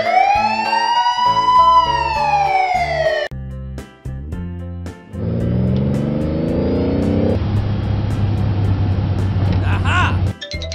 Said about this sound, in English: Ambulance car.